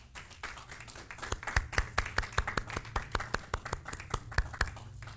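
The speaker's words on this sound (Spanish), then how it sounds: "Dale otro aplauso para ellos" A church congregation claps in rhythm, sharp evenly spaced hand claps building in loudness and staying on a steady beat.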